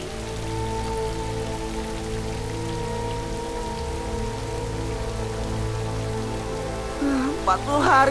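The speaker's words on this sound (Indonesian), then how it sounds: "Empat 40 hari dan 40 malam tiada hari tanpa hujan." Rain falls steadily in an animated Bible story of Noah's flood, a continuous patter under a sustained musical drone, with a voice rising near the end.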